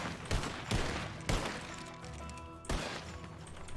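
Several loud gunshots ring out in a Red Dead Redemption 2 roleplay shootout at a jail and sheriff's office, four sharp blasts spaced irregularly over a few seconds with ringing tails between them.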